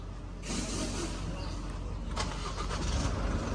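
A 2023 Isuzu D-Max with automatic transmission starts via its push button. The engine catches about half a second in and settles into a steady, close idle rumble, with a faint click midway.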